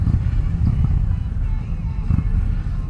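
An Indian Challenger motorcycle fitted with aftermarket pipes idles close by, a low, steady rumble with slight pulsing, heard alone.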